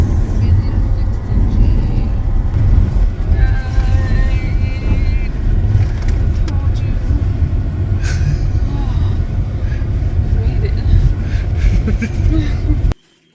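A truck, driven in place of a broken-down Jeep, grinds over rough off-road terrain near the Twin Buttes, with a steady, loud engine and rumbling body noise throughout and a person speaking over it.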